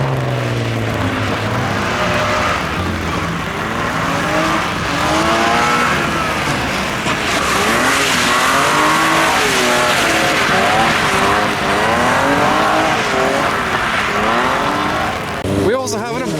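BMW E36 cars drifting at a tuner meet, engines roaring and revving continuously while tires squeal and skid, loud and close, with people talking underneath.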